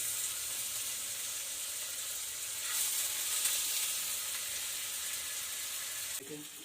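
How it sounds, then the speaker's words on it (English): Steady, loud sizzling of chicken frying in a hot pan, a continuous crackling hiss that swells briefly midway, with a faint clink near the end. "Ah, that sizzle. That sizzle's really making me hungry."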